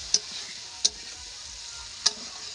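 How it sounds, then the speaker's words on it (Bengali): Pointed gourd and shrimp being sautéed in a pan, with three sharp stirring scrapes spaced through a low, steady sizzle, close and fairly quiet. "পটল চিংড়িটা ভালো করে কষতে হবে।"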